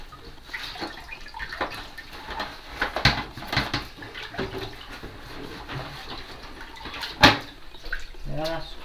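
Water splashes and trickles as plastering tools are washed clean, intermittent sloshing and drips close by, with a sharper splash near the end and occasional quiet talk.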